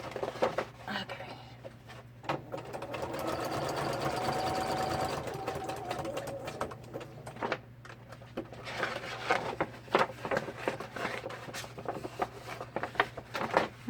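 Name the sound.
sewing machine stitching vintage wallpaper envelopes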